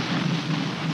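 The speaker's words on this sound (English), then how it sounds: "That was a crazy lightning bolt." Thunder from a lightning bolt during a rainstorm in a horror film, a loud broad rumbling crash with rain hiss filling the whole moment, no voices.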